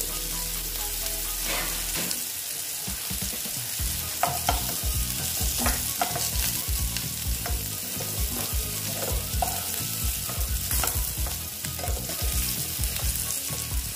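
Pieces of spiny gourd (kankrol) fry in hot oil with a dense, continuous crackling sizzle, broken by frequent stirring and scraping knocks against the pan.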